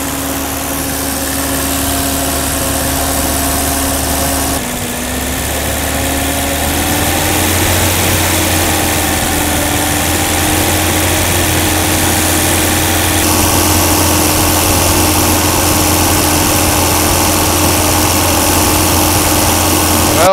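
A 1984 BMW E30 318i engine idles steadily throughout, a constant low hum with an even higher tone, close and loud, the pitch dipping briefly and then settling slightly higher as the idle shifts.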